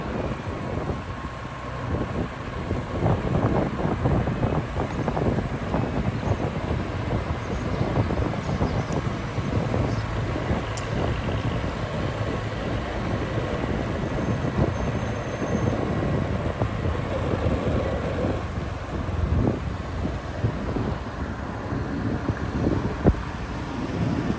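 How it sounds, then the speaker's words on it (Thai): Wind blowing outdoors beside a roadside construction area for a BRT bus route and passenger station, a steady rushing buffet across the microphone with constant rumbling gusts throughout and no talking. "อากาศ จะมีลมกันแบบนี้เนาะ"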